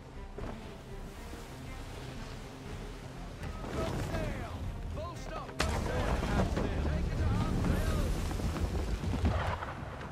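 Cannons boom at a boat on open water in Assassin's Creed III, heavy blasts and crashing impacts over surging waves, growing louder toward the end, with voices talking between the shots.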